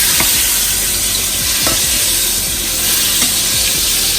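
Burgers basted in hot oil with a crushed garlic clove sizzle and crackle loudly and steadily, with faint stirring or spoon scrapes recurring under the frying.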